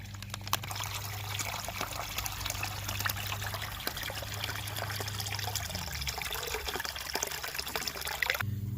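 Water pours and trickles steadily through a small mini gold sluice, a continuous close splashing flow with a low pump hum underneath that drops away near the end.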